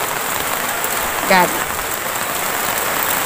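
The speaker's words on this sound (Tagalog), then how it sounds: "Malakas pa, medyo mahina na yung ulan" Heavy rain pours steadily in a flooding Philippine neighbourhood, a dense continuous hiss throughout, with a brief spoken word partway through.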